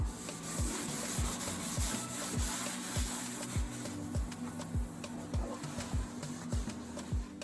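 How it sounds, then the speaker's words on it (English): Hand scuff sanding of primed furniture with 220 grit sandpaper, a steady back-and-forth scratching in regular strokes, close and fairly loud with no voice. "I'm gonna do a quick scuff sand with a 220 grit."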